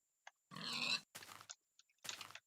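A Minecraft pig gives a few short, close grunts in quick, uneven bursts, with brief silent gaps between them and no talk.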